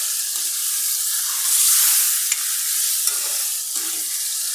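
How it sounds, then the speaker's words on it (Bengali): Gulsha fish, tomato and spices being stirred and fried in a pan, a steady loud sizzle with scraping stir strokes throughout and no talking. "এখন আমি 5 মিনিট মাছ এবং টমেটো একসাথে কষিয়ে নেব"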